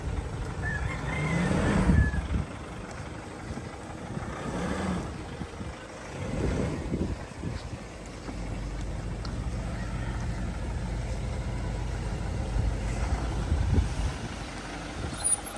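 A diesel pick-up truck's engine on a test drive: a low, steady rumble heard from close by, with a few swells as it accelerates.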